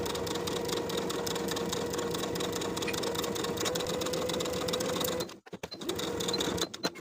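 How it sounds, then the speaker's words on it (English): A sewing machine runs a long steady seam attaching a placket to the front of a dress, its motor humming and needle chattering evenly before a brief stop, a short restart, and a final halt. "Sew the placket to the front of the dress from top to bottom with a 1/2 inch seam allowance."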